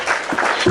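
A brief burst of clapping hands, a short spell of applause from a small group.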